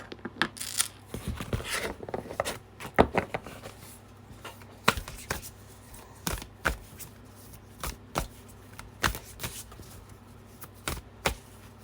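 Tarot cards being shuffled by hand during a reading, a series of close, crisp riffles and soft slaps coming in irregular bursts with quiet gaps between them.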